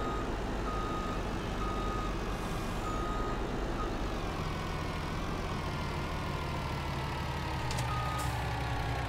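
A truck in Farming Simulator 19 runs with a steady low engine drone that holds evenly throughout. A faint reversing beep sounds intermittently over the rumble, with no one talking.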